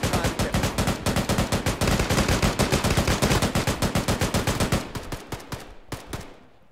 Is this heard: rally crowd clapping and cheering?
no